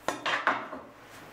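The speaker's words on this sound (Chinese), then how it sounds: "肉洗好了，从中间切开" A knife cuts through a washed slab of pork belly on a wooden board, giving three sharp chopping knocks in quick succession that fade into quiet, with no talking.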